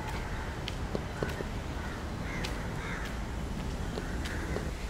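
Crows caw repeatedly at a quiet spot in Sri Lanka, several harsh calls scattered at mid distance over a steady wash of outdoor ambient noise, with no talking.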